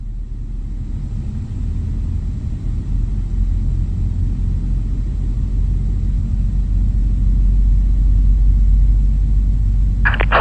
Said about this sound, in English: General Electric 90 firing up.